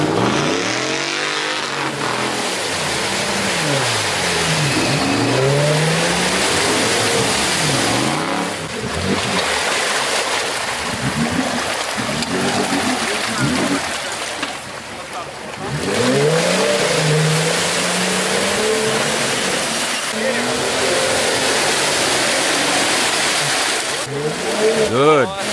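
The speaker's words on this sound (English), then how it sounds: "And there is another Wrangler in the next puddle. It's going and going." A Jeep Wrangler Rubicon churns through a muddy puddle, its engine revving and straining in loud surges that rise and fall under steady talk.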